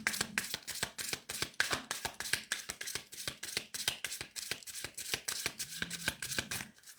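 Tarot cards shuffled by hand in quick, steady riffling bursts, close and fairly loud, running continuously without speech.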